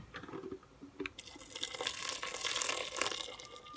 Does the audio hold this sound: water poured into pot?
yes